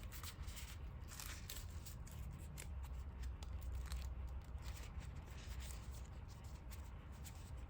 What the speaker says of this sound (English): Pop them in through the side like that. Yeah, that's a good shuffle.